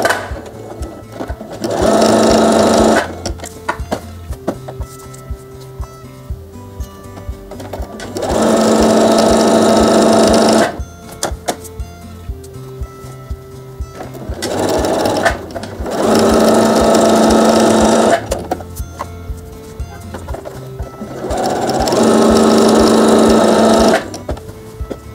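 A sewing machine zigzag-stitches elastic onto a circular skirt in four loud, steady bursts of several seconds each, separated by quiet pauses.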